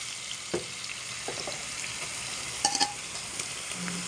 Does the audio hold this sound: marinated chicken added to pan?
yes